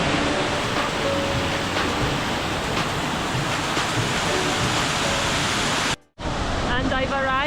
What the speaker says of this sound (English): And I've arrived at Shifen Waterfall.